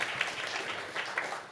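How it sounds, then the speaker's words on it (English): Applause from a conference audience greeting an engineering executive introduced on stage at a sports broadcasting community event, a steady dense patter of clapping at moderate level throughout the short burst. "Give him a round of applause."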